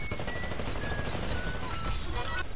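Rapid, continuous smart pistol gunfire in the PC shooter Titanfall, dense overlapping shots with no break across the whole moment, loud amid game noise.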